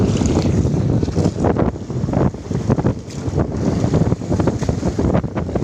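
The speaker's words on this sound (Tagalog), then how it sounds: "sobrang lakas ng hangin" Strong wind buffeting the microphone on a fishing boat in open water during stormy weather, with loud gusty roaring and surging wave noise close by, continuous and uneven.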